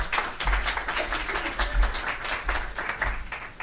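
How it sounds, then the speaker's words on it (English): A round of applause at a Global Connectors+SocialGood innovation talk: dense, steady clapping from a seated audience, fairly loud and continuous for several seconds with no voices over it. "Please give her a round of applause."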